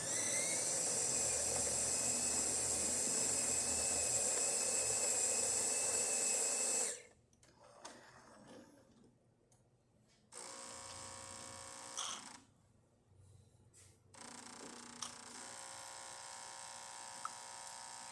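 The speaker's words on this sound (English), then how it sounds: "test it after that calibration and make a espresso shot" Jura Ina Micro 9 espresso machine pulling a shot after grinder calibration: a loud steady electric whine from the grinder, then quieter intermittent pump hum in bursts with pauses, close and alone without talk.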